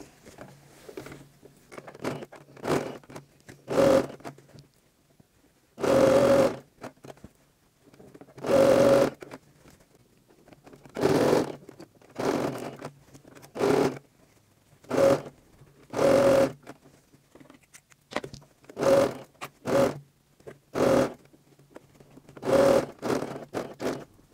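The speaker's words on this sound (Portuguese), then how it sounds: "Vamos começar com retrocesso e terminar com retrocesso, pezinho de máquina em toda a volta." A domestic sewing machine stitches around a fabric edge, running in repeated short bursts separated by pauses, with faint handling and scraping between runs, close and clear with no talk.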